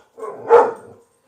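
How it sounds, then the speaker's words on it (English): A single short bark from a nearby dog, one sharp burst that trails off quickly, with no voices. "they're barking at somebody walking a dog down the street"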